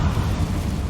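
A Confringo fire spell explosion in the video game Hogwarts Legacy, a loud, sustained rumbling blast with a deep, broadband roar filling the whole moment.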